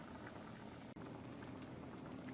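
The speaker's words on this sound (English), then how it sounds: "my water's boiling" A pot of water for fettuccine boils hard on the stove, a dense, steady bubbling and popping heard close up, alone, with one very brief dropout.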